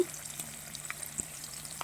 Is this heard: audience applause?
no